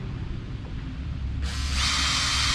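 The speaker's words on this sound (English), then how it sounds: "I use a winch handle on a drill. Spin the motor a little bit" A low mechanical hum, then a power drill fitted with a winch handle whirs up sharply, spinning a boat's rig motor at high pitch, close and loud.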